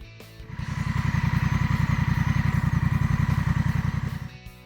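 Honda Rebel 1100 cruiser motorcycle engine running with a steady, fast pulsing throb, loud and close, rising in and fading out over a few seconds with no talking.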